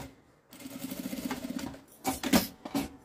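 A home sewing machine stitches in reverse while a small iron-holder bag is sewn, giving a rapid mechanical whirring chatter in two bursts separated by a brief pause, close and clear with no talking.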